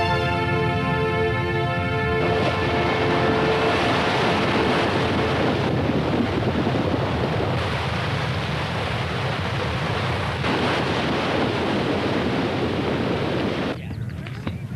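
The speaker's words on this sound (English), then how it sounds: "The creek bed's full." Rushing river water floods back into a dry creek bed, a loud, steady broadband wash and roar that runs continuously for the whole stretch without a break.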